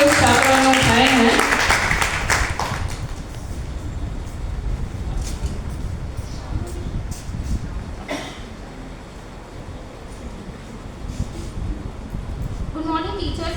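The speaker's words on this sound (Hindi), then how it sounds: "तालियां आप अच्छी सी बजा सकते हैं" An audience claps in a women's college hall during a youth debate event, a loud burst of applause at the start that fades into room murmur and talk.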